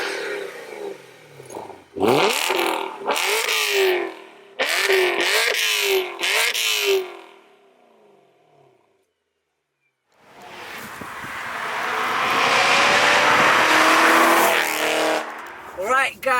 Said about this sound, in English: let's hear the exhaust and just go for a drive